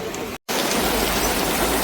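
Heavy rain pouring down at the Funchal cruise port in Madeira, a dense steady hiss of downpour broken by a brief silent gap near the start, then continuing loud and unbroken.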